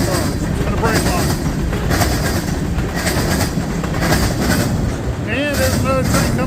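CSX freight train rolling past with gondola, tanker and auto rack cars: a loud, steady rumble of wheels with rhythmic clickety-clack and brief squealing near the end.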